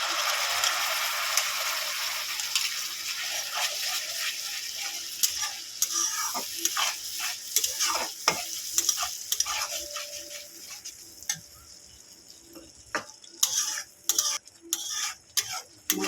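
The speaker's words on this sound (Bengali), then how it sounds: "মশলা আমি এইভাবে কষাতেই থাকবো" Spice paste of ginger-garlic, green chili and tomato frying in oil while being stirred, steady sizzle turning to rapid spatula taps and scrapes toward the end, close by, no speech.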